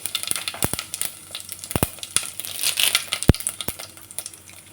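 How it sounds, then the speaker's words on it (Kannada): Mustard seeds, cumin and curry leaves sizzle in hot oil, a steady frying hiss broken by sharp popping crackles of the spluttering seeds, heard close up. "ಆಯಿಲ್ ತುಂಬ ಚೆನ್ನಾಗಿ ಕಾಯಬೇಕು. ಇವಾಗ ಸಾಸಿವೆ ಹಾಕ್ಕೊಳ್ಳಿ."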